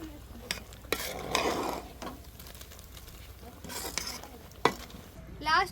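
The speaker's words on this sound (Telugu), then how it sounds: "మసాలా పొడి రొయ్య ముక్కలకి పట్టేలాగా కలుపుతున్నా" Masala powder is stirred into prawn pieces for pickle, with scraping and clinking of a spoon against a pot, soft sizzling underneath and a few sharp knocks.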